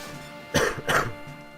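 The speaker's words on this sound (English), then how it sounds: "Again, sorry for the coughing," Two quick, close coughs from someone who is sick, the second following about a third of a second after the first, with no speech around them.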